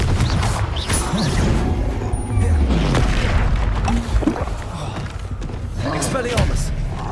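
The Confringo blasting spell in Hogwarts Legacy sets off booming, crashing explosions again and again amid combat, while a voice shouts spell names over the blasts.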